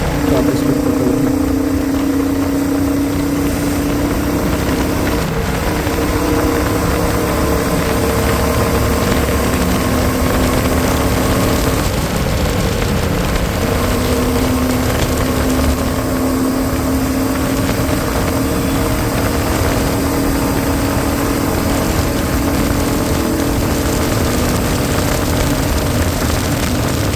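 A Royal Enfield Classic motorcycle running flat out on a highway near 120 km/h holds a loud, constant engine drone under heavy wind rush for the whole stretch, with a faint voice now and then.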